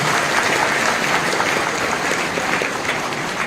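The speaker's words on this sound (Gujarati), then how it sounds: "બધાને વિનંતી કે તાળીઓના ગગડાટ કરીને બતાવી રહ્યા" Crowd applause for the PTC group women's drama at a National Voters' Day celebration, a dense, continuous clapping that stays loud and even for a few seconds.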